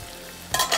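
A spoon stirs moong dal and cabbage curry in a pan, making two quick scraping strokes in close succession, near and distinct against a quiet background.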